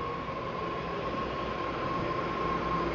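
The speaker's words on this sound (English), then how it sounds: "And then the train going the other way is over here." A BART train passing on the opposite track, heard from inside a moving train as a steady rumbling roar with a faint sustained whine, loud and constant throughout.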